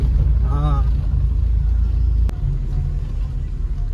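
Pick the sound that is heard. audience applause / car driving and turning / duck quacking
car driving and turning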